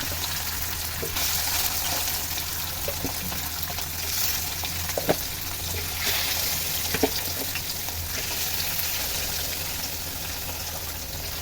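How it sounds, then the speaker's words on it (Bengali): Steady loud sizzling of fish frying well on both sides in hot oil, continuous crackle with occasional pops and light clatter, no talking. "এবার এই মাছটাকে আমি ভুনা করার জন্য খুব ভালোভাবে ভেজে নেব"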